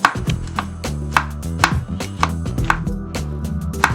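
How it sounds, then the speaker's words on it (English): A knife rapidly chops garlic cloves on a cutting board, sharp repeated taps in an uneven rhythm, close and loud with no talking. "I like to mince them together by first roughly chopping them and then mincing them."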